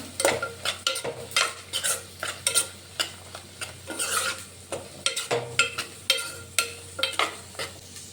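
Tomato chutney with curry leaves gets stirred in a pan, a rhythmic series of scraping spoon strokes over a soft simmering sizzle and steady low hum, close and without talk.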